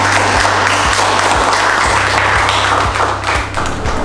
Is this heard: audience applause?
yes